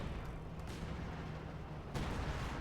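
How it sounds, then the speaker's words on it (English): KV-2 tank gunfire and shell impacts in the real-time strategy game Company of Heroes 2, a dense rumbling battle din with a sharper boom near the end, no talk. "Almost got the mortar there with a single hit of the KV2"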